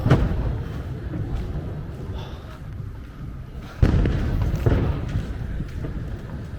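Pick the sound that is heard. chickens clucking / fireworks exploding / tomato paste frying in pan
fireworks exploding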